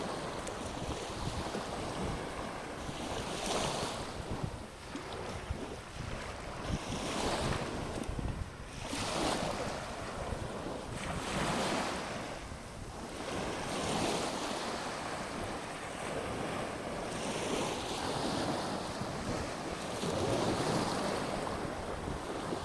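Ocean waves roll onto Bang Por Beach on Koh Samui, a steady wash of surf with gusts of wind buffeting the microphone and waves swelling and fading at intervals, with no voices.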